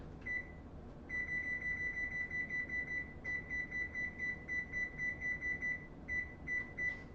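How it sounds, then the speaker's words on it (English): A kitchen timer is set for baking and gives a run of shrill electronic beeps in quick, regular pulses, with a few short breaks and a quiet hum underneath, near and clear, with no voices. "so now we're just gonna throw these in and put 24 minutes on the timer"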